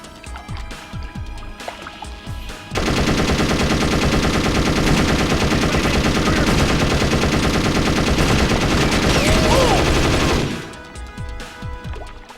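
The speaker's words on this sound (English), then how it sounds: "with a mounted machine gun." Mounted machine gun in the Perfect Dark Zero video game firing one continuous, loud, dense burst of rapid shots lasting about eight seconds, with quieter game sounds before and after.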